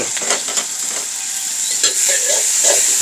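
Steady sizzling and scraping as young cha-om shoots with fermented tofu are stirred and fried over high heat in a hot iron wok, close and loud, with no talking.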